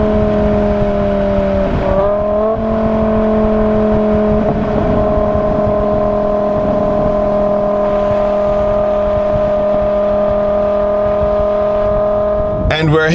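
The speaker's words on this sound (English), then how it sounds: "listen to that glorious BMW V10 engine, probably the best engine they've ever made" BMW M6 with a V10 engine gives a loud, close, continuous droning note that steps up in pitch briefly early on, then holds steady throughout.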